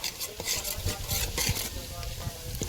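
Onions and curry leaves sizzle in hot oil in a pan while a spoon stirs them, a dense crackling hiss broken by scraping strokes, close and steady throughout.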